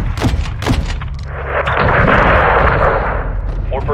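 Airstrike slamming into a building in the Modern Warfare II campaign, sharp gunfire cracks giving way to a loud, rolling explosive roar that swells and sustains, with brief voices underneath.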